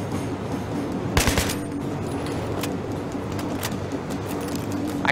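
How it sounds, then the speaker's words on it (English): Bursts of rapid gunfire in the video game Battlefield 3 crackle in the background over a constant low ambient drone, with scattered single shots following. "kind of can't hear you over the gunshots"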